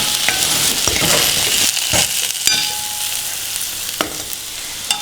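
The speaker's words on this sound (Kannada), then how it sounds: "ಈಗ ಇದೆಲ್ಲದನ್ನು ಚೆನ್ನಾಗಿ ಮಿಕ್ಸ್ ಮಾಡೋಣ" A spoon stirs onions and spices frying in a pan, with loud continuous sizzling close up and scattered sharp scrapes and knocks of the utensil against the pan.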